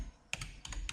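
Computer keys are pressed while an Excel formula is typed, giving a few quick, close clicks in short bursts.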